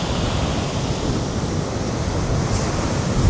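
Waves wash over a shingle beach on a windy day, a steady broad roar of surf with wind buffeting the microphone throughout and no voices.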